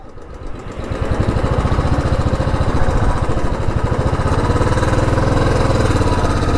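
Motorbike and vehicle engines rumble on a busy Mumbai road, a loud close buzzing drone that rises after a second and holds steady without speech.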